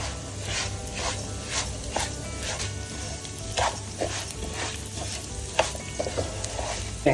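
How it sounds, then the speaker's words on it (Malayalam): Rice fries in ghee for a Thalassery fish biryani with a close, continuous sizzle, while a spoon repeatedly scrapes and stirs through it in uneven strokes, with a few sharper knocks. "നമുക്കത് പൊരിഞ്ഞ് വരുമ്പോൾ, അരി പൊരിഞ്ഞ് വരുമ്പോൾ ആവും. അതാണ് പാകം."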